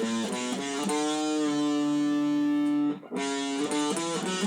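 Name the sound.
electric guitar playing an interlude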